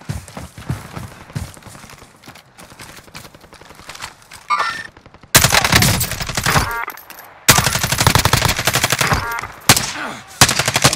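Video game gunfire in rapid automatic bursts, sparse and lighter at first, then loud dense volleys from about five seconds on, with brief gaps between long sustained strings of shots.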